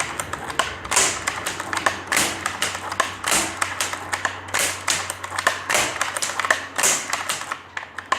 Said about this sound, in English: obviously this gun fires slower because it's a bolt action